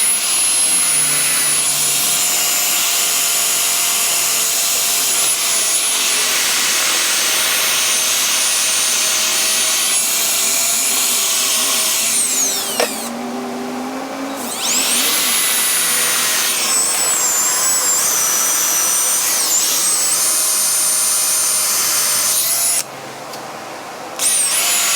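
A power drill whines loudly and steadily while working on a car brake rotor, the motor's pitch shifting slightly with brief pauses in the drilling.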